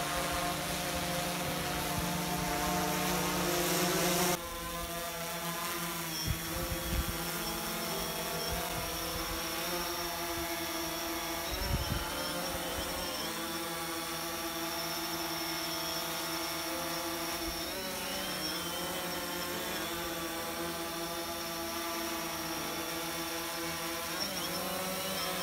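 A flying drone gives off a steady, continuous motor whine that holds for the whole stretch with slight shifts in pitch. A louder burst at the start drops to a constant hum, and no one speaks.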